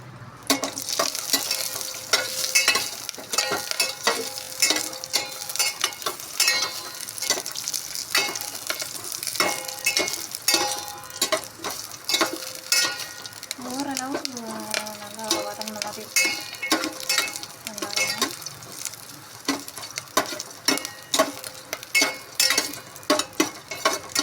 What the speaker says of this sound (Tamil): வெங்காயம் போட்டு நல்லா வதக்கி விட்டுக்கணும்